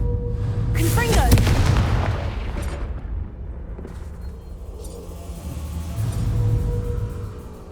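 A Confringo fire spell bursts with a loud boom and crackling blast in Hogwarts Legacy, followed by a rumbling low tail that fades and swells again amid game ambience.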